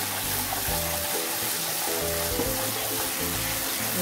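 Spices and candlenuts stir-fry in oil for a chili coconut fish dish, a steady, even sizzle running throughout with a faint tonal hum beneath and no talking.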